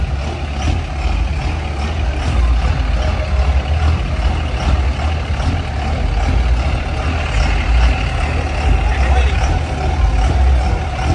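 Truck engine rumbling at a truck show, a deep steady idle with hiss and crowd background, close and continuous, with people talking over it.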